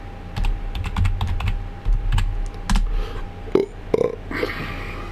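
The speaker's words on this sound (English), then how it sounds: "So I'm typing it with one hand." Keys on a computer keyboard clatter in quick, irregular bursts of close, sharp taps, followed by a few louder isolated clicks and a short rustle.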